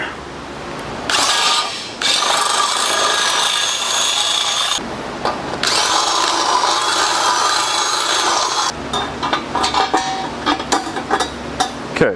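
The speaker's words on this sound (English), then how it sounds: "Drill those out real quick." Power drill boring out oval holes into round ones on a 408 stroker engine build, a loud, close grinding whir in two long sustained runs, then shorter choppy bursts at the end.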